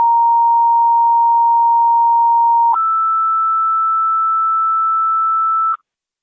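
Two sustained fire dispatch alert tones come over a county police and fire scanner, a steady lower tone for about three seconds followed by a slightly higher tone for three more, loud and clean with no voices.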